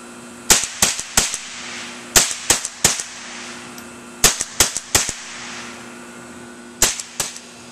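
Gunshots fired at a can, sharp loud cracks coming singly and in quick clusters of two to four, with short pauses between volleys and a faint steady hum underneath.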